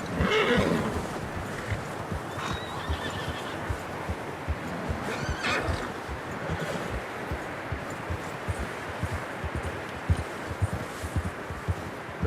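A horse whinnies and snorts in Red Dead Redemption 2 while hooves clop at a walk, close and fairly loud over rustling outdoor ambience, with no talking.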